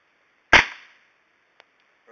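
One suppressed MP5 shot cracks out sharply and close, with a short decaying tail, followed by a faint small click a second later.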